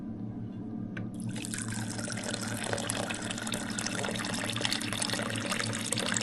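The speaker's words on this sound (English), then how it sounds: "filter and get some filtered water" Filtered water pours from a Zero water filter into a container; after a second of quiet the stream starts abruptly and runs steadily and close by until the end.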